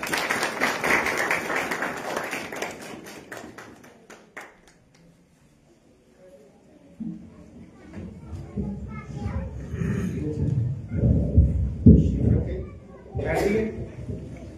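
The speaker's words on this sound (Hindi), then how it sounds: "हम खुदा के कलाम के लिए खुदा के पैगंबर और मुबश्शिर झील सलास के लिए जोरदार तालियां बजाएंगे" Congregation at a church service clapping loudly together for a few seconds, a dense burst that fades out before voices and speech take over in the hall.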